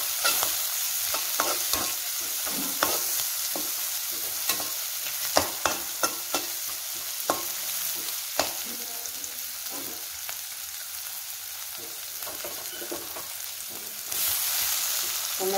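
Onions frying in a pan for carrot parota, a soft steady sizzle broken by frequent sharp clicks and scrapes of stirring, the frying swelling louder at the very end.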